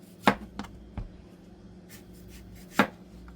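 A knife slices garden cucumbers into rounds for pickles, two sharp, close chopping taps against a board with a couple of softer knocks between, in a quiet room.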